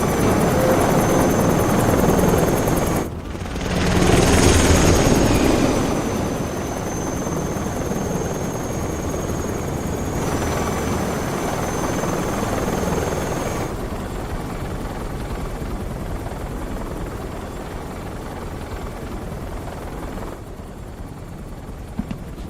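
A helicopter in the video game Metal Gear Solid Delta, its steady rotor thrum droning continuously, loud and close, with a brief surge near the start before settling into a constant whir.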